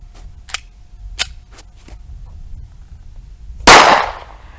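A .45 ACP round fired from a Smith & Wesson M&P Shield pistol at a brick lands as a single loud, sharp crack near the end. A few faint clicks and taps come before it.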